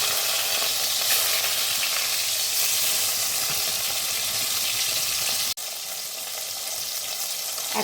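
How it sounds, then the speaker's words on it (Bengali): Rohu fish pieces fry in hot mustard oil with a loud, steady, close sizzle and crackle that runs unbroken, briefly dipping near the end, with no voices. "তেলটা যখন গরম হয়ে গেছে তখন আমি মাছগুলো ভাজতে ছেড়ে দিচ্ছি।"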